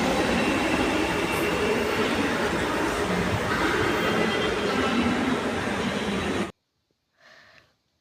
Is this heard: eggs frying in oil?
no